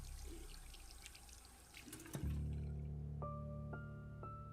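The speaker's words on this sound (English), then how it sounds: "There was a familiar squeak, the sound of the faucet turning." A household faucet is turned on, and running tap water begins a steady gush, accompanied by rising squeaky tones from the pipes.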